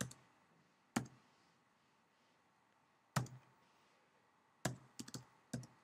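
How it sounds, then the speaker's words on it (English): Sparse, quiet keystrokes on a computer keyboard, a few isolated taps followed by a quick cluster of clicks, with no talking. "you want to go on typing"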